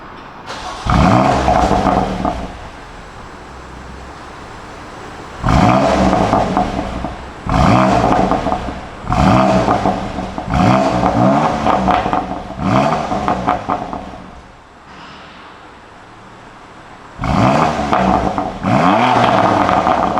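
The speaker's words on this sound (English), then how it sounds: "let's see how the M2 Competition is sounding on the Sport Plus mode" BMW M2 Competition from 2018 revving in Sport Plus mode, a series of about six loud, close throttle blips rising and falling, each swelling into a roar and dropping back to a rumbling idle between pulls.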